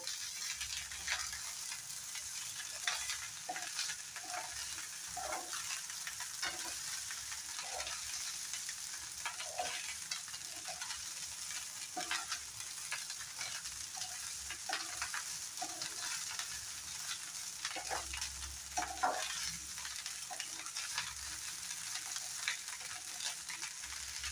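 Fried onion and egg are stirred into egg fried rice in a hot pan, a steady close sizzle broken by repeated scraping and tossing strokes of the spatula at an even rhythm.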